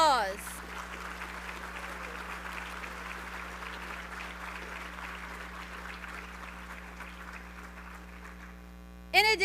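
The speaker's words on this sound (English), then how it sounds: "applause." Soft, distant applause from an audience at a high school senior awards ceremony, steady and even over a constant low electrical hum, ending in a brief louder burst.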